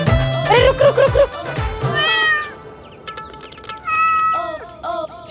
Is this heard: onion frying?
no